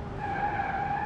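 A Renault Megane mod car in a racing game brakes hard with the brakes sticking, giving a steady high tire squeal and skid over low engine rumble, brief and fairly close.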